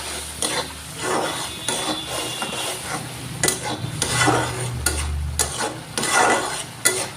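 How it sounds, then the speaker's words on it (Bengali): Spice paste sautéing with a little water in a pan, a soft continuous sizzle under repeated scraping stirs and low clattering of the spoon, close and moderately quiet. "কিছু পরিমাণে পানি দিয়ে মশলাটা ভালো করে কষিয়ে নেব।"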